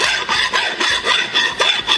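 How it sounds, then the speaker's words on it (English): A half round file works a John Deere wheel bushing in quick back-and-forth strokes, a close, gritty metallic rasp repeating about four times a second with no voices. "Now you're going to have to do some filing if that's the only tool you got."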